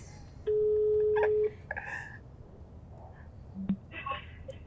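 A telephone being dialed for a call gives a long steady tone, then a few short beeps, with brief voices and quiet handling noise around them.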